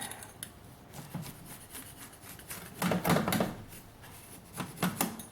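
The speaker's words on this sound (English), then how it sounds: "So I'm gonna go ahead and give it a nice quick cut here." A freshly baked Greek flatbread pizza with a crisp crust is sliced, giving a series of close, crunchy cutting bursts that swell louder toward the middle and return in short strokes near the end, with no talking.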